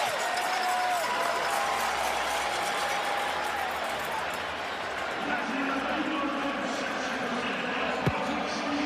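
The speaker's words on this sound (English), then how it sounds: "the crowd getting fired up again" Football stadium crowd at a Canadian league game between Winnipeg and Calgary, a steady distant roar of cheering spectators under a commentator talking throughout, with a brief sharp knock near the end.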